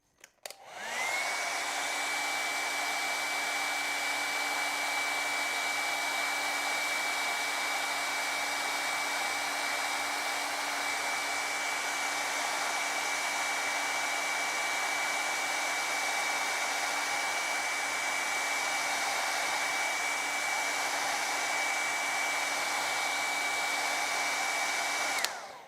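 A hair dryer used to dry an Inktense ink painting blows a steady, loud whooshing hum with a constant whine, starting abruptly and running unbroken for over twenty seconds before cutting off.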